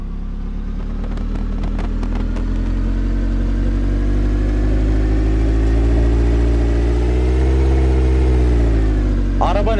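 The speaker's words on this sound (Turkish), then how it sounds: "Arabanın sesine bak ya." A car engine in the video game Rent A Car Simulator 24 hums steadily, then revs higher and drops back down, loud and close, with a brief rattle near the end.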